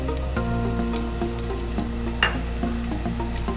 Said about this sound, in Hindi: और सौते करेंगे लहसुन को।